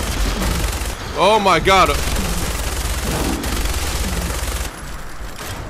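Sustained rapid gunfire in Fallout 4, a steady rattling stream of shots running through the clip while a man yells in alarm over it.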